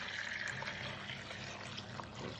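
Lukewarm water poured from a bucket into an orchid planter, a steady soft splashing trickle running close and continuous throughout with no talk.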